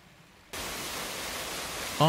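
A shallow burn runs over stepping stones and a man-made waterfall, giving a steady broadband rush of flowing water that starts abruptly and holds evenly, fairly close, with a brief tonal sound at the very end.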